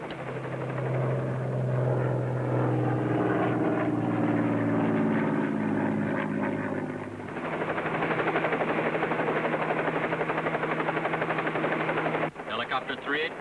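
A helicopter flies steadily overhead, its rotor and engine forming a continuous loud drone throughout, with a brief sharp disturbance near the end.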